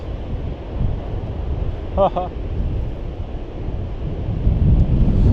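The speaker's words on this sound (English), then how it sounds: "The big waves are supposed to be here from November until February." Big ocean waves crash on a high-season coast while strong wind buffets the microphone, making a loud, churning roar that swells near the end, with a brief tonal blip midway.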